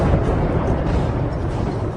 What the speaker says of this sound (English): Explosions shatter the darkness in the city centre.